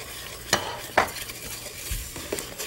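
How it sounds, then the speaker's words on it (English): Rice and split mung beans with vegetables sauteed in ghee and spices, a soft sizzle broken by a few sharp spoon scrapes and stirring clatters against the pan. "So let's saute the rice and beans with the vegetables, ghee and spices together for about 2 minutes."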